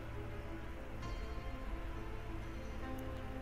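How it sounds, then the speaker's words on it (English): Steady rain falling in the Project Zomboid video game, a dense, even hiss that fills the whole stretch with no talk over it. "So we're stuck because it's raining again."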